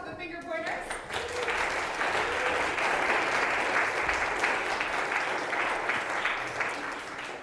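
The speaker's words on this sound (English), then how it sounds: "So a round of applause for the finger pointers." Applause from a school audience at a middle school theater performance, a dense, steady wash of clapping sustained loudly for several seconds after a brief voice at the start.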